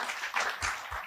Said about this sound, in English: Y'all give Joe Barry Carroll a round of applause.